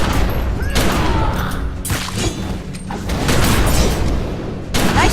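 Dense gunfire from The Secret World crackles in overlapping bursts, loud and close, with booms and mechanical clatter mixed in and brief shouted voices.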